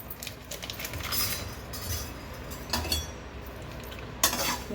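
Fifty grams of fennel seeds being dry-roasted in a pan while being stirred, giving steady scraping and light clinking of utensil on metal, with a faint sizzle underneath and a sharper clink near the end.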